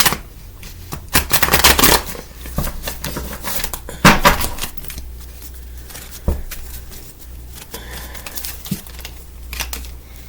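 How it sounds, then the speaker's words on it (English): Tarot cards are shuffled by hand up close, bursts of riffling and slapping card noise repeating in irregular rhythm, fairly loud with quiet pauses between. "Let me shuffle these a couple times."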